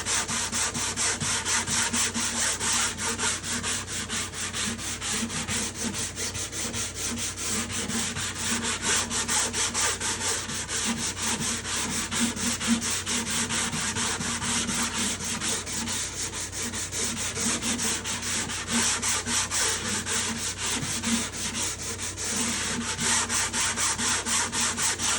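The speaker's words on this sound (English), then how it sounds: "it takes a lot of aggressive sanding to make a substantial difference in the sound" A wooden guitar top is aggressively sanded in continuous, dense rubbing strokes for about 25 seconds, heard close and steady with no talking.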